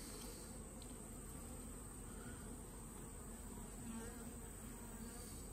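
Honeybees buzz steadily at an open backyard hive during an inspection, a dense continuous drone of many insects close by with no talking.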